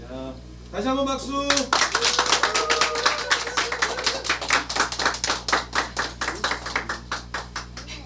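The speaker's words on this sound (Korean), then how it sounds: "다시 한번 박수" A church congregation claps for children at a Sunday service, a loud, rhythmic unison beat that starts after a brief spoken phrase and keeps a steady pulse to the end.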